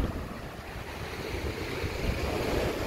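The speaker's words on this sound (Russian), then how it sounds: "видишь, какой ветер задувает" Strong stormy wind blows across the beach at Sochi's Olympic Park: a continuous roaring buffet mixed with surf, loud and close, with no talking.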